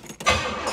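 A 1972 Pontiac LeMans convertible with a 350 V8 and three-speed automatic cranks briefly and catches, a quick starter whir followed by the engine firing into a close, steady rumble.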